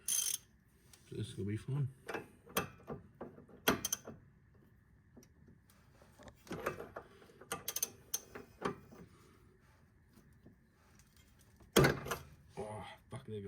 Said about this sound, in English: I've got a 30 mil socket, and we're going to try and undo it without the jack